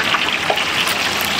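Hot oil poured over duck skin gives a steady, close, liquid rushing and sizzling sound, continuous and fairly loud with no talk over it.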